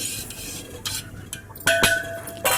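Pepper powder is stirred into milk in a bowl while making junnu cake, giving soft scraping swirls broken by a few sharp clinks of a utensil against the bowl, close and without speech.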